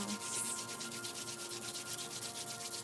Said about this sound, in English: rub your palms together in a circular motion